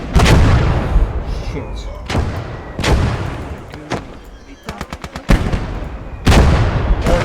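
A 76mm gun fires in the Blood Red Snow war game, with several loud, sharp booms spaced a second or two apart and a rapid burst of smaller reports in between, up close, with a brief muttered voice.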